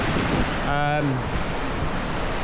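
River water rushes steadily and loudly at a river crossing on an English mountain hike. Wind buffets the microphone throughout, and a voice briefly sounds over the water.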